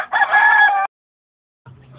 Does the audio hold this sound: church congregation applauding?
no